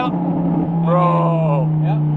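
A Lamborghini Gallardo supercar idles with a loud, steady low exhaust drone, a deep engine rumble close by and continuous, while excited voices talk over it.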